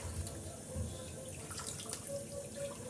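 Running water pours and splashes softly as gongura leaves are washed under a tap, a quiet, continuous flow with small drips and bursts of spatter close by.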